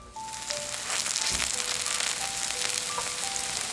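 A vegetable pancake (buchimgae) sizzles steadily in an oiled pan, a dense close crackle of frying that holds evenly throughout with no talking.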